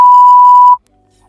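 A single loud, pure electronic censor bleep holds steady for under a second and then cuts off abruptly into silence.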